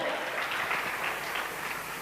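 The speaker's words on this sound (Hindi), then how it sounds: "हमारे विकास मागुरु जी के लिए जोरदार तालियां दोस्तों" Audience applause at a Safe Shop gathering, a thick, continuous roar of clapping that stays loud and even from start to finish.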